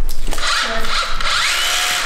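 A DeWalt FlexVolt hammer drill bores into material on a renovation site, a loud close whining drone with a brief dip in pitch before it runs on steadily.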